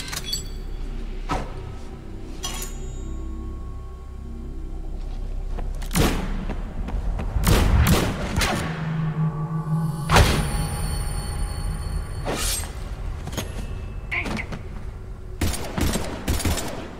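Gunfire in the Mass Effect 3 video game: a rapid fusillade of shots and heavy thuds spread across the stretch, loud and layered over a low rumbling game soundscape, with no talking.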